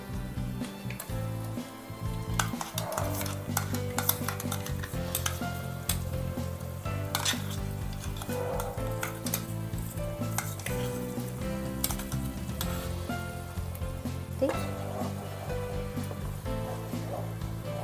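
Onion, tomato, chili, salt and turmeric paste stirred over high flame in a pan, a continuous bubbling sizzle with repeated clinks and scrapes of the spoon against metal, close and busy throughout.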